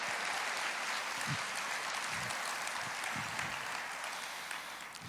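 Sustained applause from a church congregation fills the space, dense and even clapping from many people that holds steady and tapers slightly toward the end, with low murmurs underneath.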